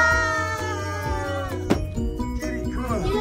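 A cat meows indoors at a children's museum, one long drawn-out harmonic call that bends downward and then trails into shorter wavering cries, loud and close.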